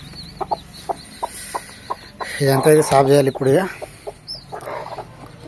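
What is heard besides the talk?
chickens clucking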